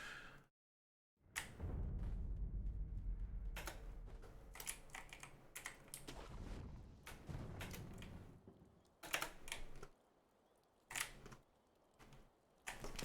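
Computer keyboard keys clatter in quick uneven bursts during a Sekiro speedrun, quiet and close, with short pauses between flurries of clicks.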